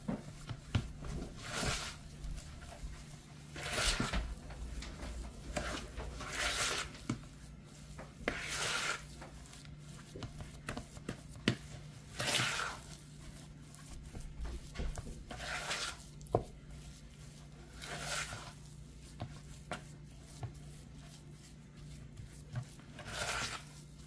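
Hush puppy batter being stirred in a bowl, with rhythmic scraping and squelching strokes repeating every couple of seconds, close and moderately loud over a faint low hum.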